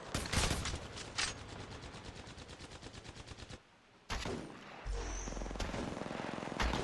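Fast automatic gunfire rattles in Apex Legends Mobile, a sustained close stream of rapid shots that breaks off into a brief lull, then more shooting and game noise resume.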